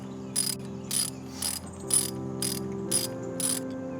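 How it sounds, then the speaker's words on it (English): A socket wrench ratchets a spark plug into the cylinder head of a 2009-2013 Toyota Corolla, giving seven short, evenly spaced bursts of metallic clicking, close and clear against a faint steady hum. "then I go back and I use the socket wrench. Righty tighty to make it tight."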